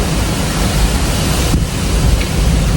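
Strong, steady wind roars outdoors ahead of a storm near the waterfront at National Harbor, a loud broadband rush that fills the whole clip with gusty buffeting on the microphone and no talk.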